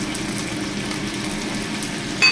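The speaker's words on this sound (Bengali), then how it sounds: "মশলাটা কষানো হয়ে গেছে, দিচ্ছি কাঁকড়াগুলোকে দিয়ে দিচ্ছি, আলুগুলোকে ঢেলে দিচ্ছি।" Crab and potatoes tumble into a pan of frying spice paste, giving a steady, close sizzle and hiss that ends in a brief louder splash of sound.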